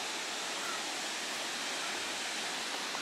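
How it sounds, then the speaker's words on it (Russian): Laxapana waterfall near Maskeliya in Sri Lanka roars as a steady, dense broadband rush of falling water, heard close and continuous with no pauses. "Вроде еще спуск, водопад вот рядом."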